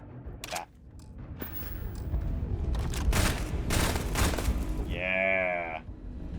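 Rifle gunfire in the space game Starfield, a run of shots amid muffled combat noise, followed by a synthetic whirring tone near the end.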